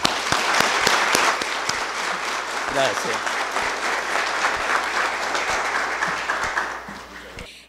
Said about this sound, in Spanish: le pido que le demos un fuerte aplauso